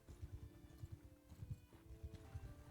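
Horse archers gallop in the video game Mount & Blade Bannerlord, giving a quick, rhythmic clip-clop of hooves in regular paired beats, faint and distant throughout.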